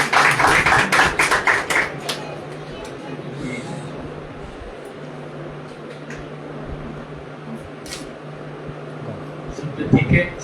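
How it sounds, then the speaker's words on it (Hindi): A church congregation claps loudly together at a Sunday worship service, a dense burst of rapid applause in the opening seconds that gives way to a speaking voice over room hum. "एक जोर ताली बजाएं"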